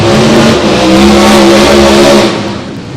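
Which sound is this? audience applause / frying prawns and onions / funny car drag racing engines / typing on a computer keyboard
funny car drag racing engines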